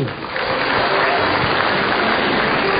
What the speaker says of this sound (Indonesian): Tepuk tangan untuk Narji